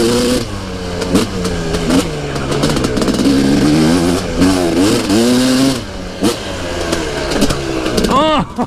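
A KTM 300 two-stroke or YZ450FX dirt bike revs on a woods ride, its engine rising and falling in repeated loud throttle bursts close by, with a rider's voice over it.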